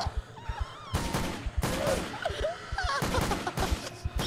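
Gunfire in the horror video game Chased By Darkness, a run of sharp shots and bursts at irregular intervals, with faint wailing and game sounds between.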